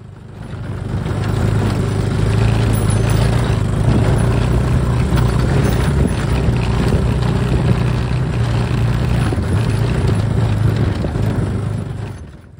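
The small 125 cc engine of a Mini Jeep, still not fully warmed up, drones steadily and fairly loudly at close range as it drives off-road over sticks and stones, with no talk over it.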